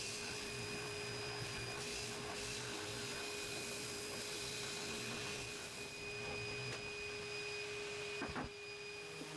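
A spindle sander working the inside curve of a 2x6 wood piece, a steady motor hum with a constant whirring rasp, faint and continuous, with a brief knock near the end.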